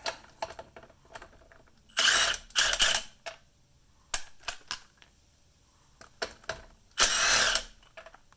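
Milwaukee cordless impact tool on its middle setting, hammering in several short loud bursts separated by quieter mechanical clicks and pauses.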